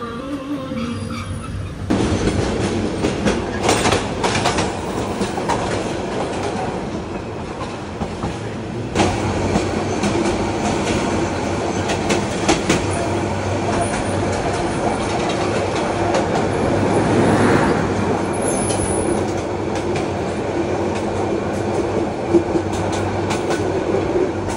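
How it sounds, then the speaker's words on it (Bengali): Parjotak Express intercity train pulling out of Kamalapur station in Dhaka, a close, continuous rumble with rhythmic wheel clatter and occasional squeals and thumps from the carriages, building slightly as it gathers pace. "আমাদের আন্তনগর পর্যটক এক্সপ্রেস ছেড়ে যাচ্ছে রাজধানী ঢাকার কমলাপুর স্টেশন থেকে।"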